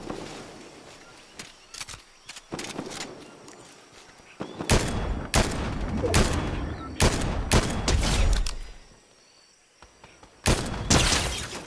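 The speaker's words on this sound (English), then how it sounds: "I'm assuming you're the one up there shooting." Gunshots from someone shooting nearby outdoors, a scattered series of sharp cracks and bursts at irregular intervals, some loud and close, over a background of insect chirping and faint rustling.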